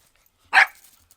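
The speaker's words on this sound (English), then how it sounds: "Dogs." A single sharp dog bark sounds close and loud in a quiet outdoor setting, brief and alone with no talking.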